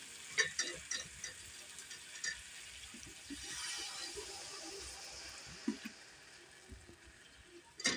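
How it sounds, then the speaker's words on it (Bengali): Water poured into a pan of simmering sliced potatoes, a faint soft splash and bubbling sizzle with a few light clinks of a utensil against the pan. "এখানে আমি একটু জল অ্যাড করছি।"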